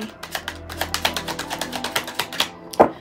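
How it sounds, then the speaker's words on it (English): Tarot cards are shuffled up close in a rapid run of crisp, papery riffles and taps, ending in a sharper snap, with no talking. "shuffling can be a little bit loud"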